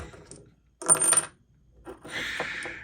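Coins drop and clink in short metallic bursts, two or three separate jingles close by with quiet pauses between them.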